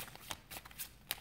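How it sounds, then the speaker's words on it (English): A deck of playing cards riffles through a false overhand shuffle, a quick series of soft, crisp flicks and slaps at close range, fairly quiet with no talking. "That false shuffle or this one?"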